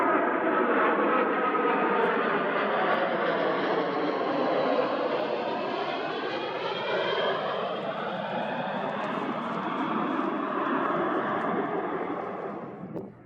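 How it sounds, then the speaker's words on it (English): Boeing 747 airliner of British Airways on final approach to Phoenix, about one and three-quarter miles from the runway, giving a steady, continuous broadband engine roar at a constant close level for the whole span, slowly fading at the very end. "Here, the 747 is about 1 3/4 miles from the end of the runway."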